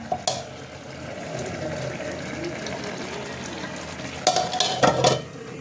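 Paneer curry with a few green chillies simmers and sizzles in a pan, with a steady bubbling hiss and a few sharper clatters of stirring near the end.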